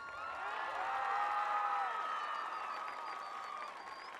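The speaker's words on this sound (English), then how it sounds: "Let's give him a round of applause." Faint, distant applause from a crowd at a high school football game with a few whoops and cheers, swelling in the middle and easing off, heard from far back in a large space.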